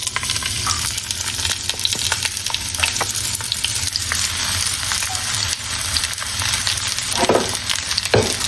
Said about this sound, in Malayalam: എണ്ണ ചൂടായി വന്നിട്ടുണ്ട്. ഇതിലേക്ക് നമുക്ക് കട്ട് ചെയ്ത് വെച്ച കോവയ്ക്ക ആഡ് ചെയ്യാം.